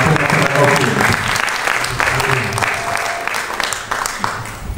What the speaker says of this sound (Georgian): აპლოდისმენტები მინდა ძალიან დიდი